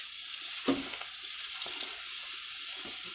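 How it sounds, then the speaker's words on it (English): Kale greens frying in hot oil with seasoning, a steady broad sizzle punctuated by a few stirring scrapes and clatters near the pan, with no talking. "we're gonna give those a nice stir"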